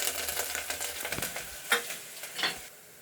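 Green garlic tipped into onions already frying in a home-cooking pan, bringing a steady close sizzle broken by several sharp stirring scrapes and clicks across a few seconds, with no voices.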